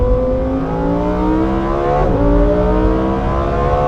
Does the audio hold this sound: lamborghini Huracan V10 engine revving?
yes